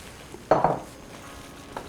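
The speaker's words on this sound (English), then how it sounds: "And I'm gonna stir these, and I wanna make sure that the green beans are really nice and coated with the sauce." Green beans being stirred into a thickened sauce in a pot, a single short scraping clink of a spoon against the pot, quiet and close, followed by a faint tap.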